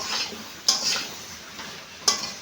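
Fish head and mixed vegetable curry being stirred and tossed in a pan, soft scraping with a few sharp clinks of a utensil against the metal, close and fairly quiet.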